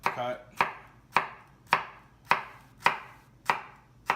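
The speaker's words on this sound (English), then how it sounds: "So I'll do a large cut here, okay? And then I might do a cut." A knife chops food on a cutting board in a rough chop, with eight evenly spaced, crisp thuds in a steady rhythm, close and clear with no talk.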